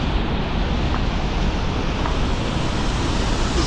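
A waterfall pours at a cave in Bali, a loud, steady broadband roar of rushing water heard up close without any voices.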